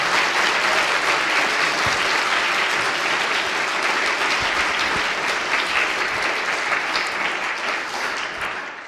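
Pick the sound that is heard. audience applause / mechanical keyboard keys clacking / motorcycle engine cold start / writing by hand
audience applause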